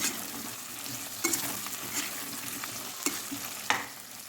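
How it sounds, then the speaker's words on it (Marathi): Potatoes frying in masala, stirred in a pan; a soft, steady sizzle with occasional spoon scrapes and taps, close and moderately quiet. "बटाटा मी दोन तीन मिनिट मस्त फ्राय करून घेतलेला आहे मसाल्यामध्ये"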